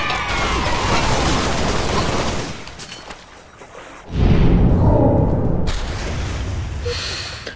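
A frag grenade explosion in Halo Reach bursts in as a loud, close, broadband blast that rolls on for a few seconds amid ongoing gunfire and game noise, with no talk over it.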